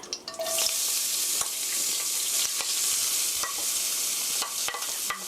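Carrots stir-frying in grapeseed oil for japchae make a steady, close sizzle, with light scrapes and taps of a utensil against the pan throughout, and no talk.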